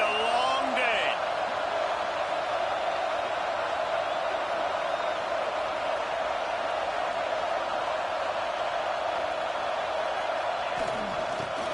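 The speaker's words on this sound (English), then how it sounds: "This crowd, full throat, spreading the eardrums and letting them know it's going to be a long day." A stadium crowd cheers at a college football game between Clemson and UCLA in NCAA 26, a dense, steady roar of many voices that holds at full volume throughout.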